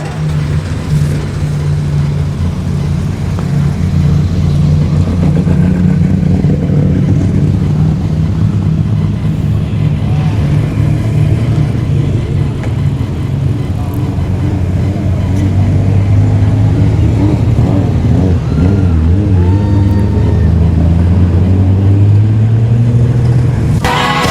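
Modified sedan race cars roar around the Kingaroy Speedway dirt track during a Golden Helmet Series heat, loud layered engine drones rising and falling as cars pass, with a commentator's voice faintly beneath.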